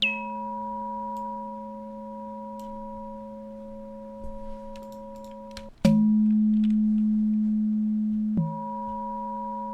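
Steady synthesized sine tones hum for several seconds, broken by sharp clicky transients where the pitch abruptly shifts lower and then back up.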